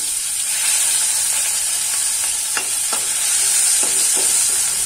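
Laai greens curry with bay leaves sizzles in a hot pan, a steady frying hiss broken by a few soft scraping stirs.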